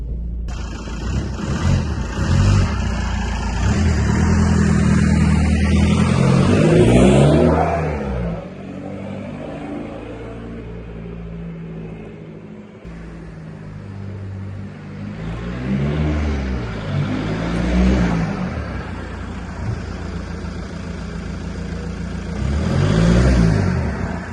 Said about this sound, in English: take some shots of the car driving away as well as coming towards, so you can get a better idea of how it's going to sound